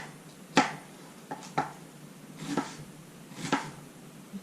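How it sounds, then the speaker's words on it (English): Knife cutting strips into a halved onion laid flat side down on a board outdoors at a campsite; a few faint, sparse taps spaced roughly a second apart. "Cut your onion in half, lay the flat side down, cut strips up the onion,"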